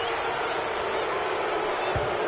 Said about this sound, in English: Well, this crowd does not like that call.